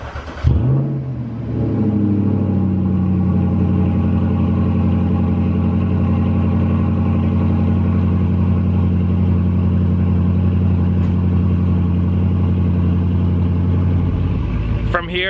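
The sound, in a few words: Jaguar XK car engine cold start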